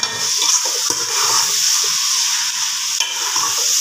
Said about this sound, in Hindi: अब हम इसको अच्छे से करेंगे मिक्स